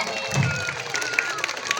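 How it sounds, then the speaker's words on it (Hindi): An audience at a village social event in Mirzapur claps briefly, a short burst of scattered, moderately close applause from a seated crowd. "तालियों के साथ गड़गड़ाहट का स्वागत।"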